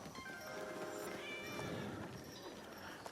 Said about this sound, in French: il y a un petit chat là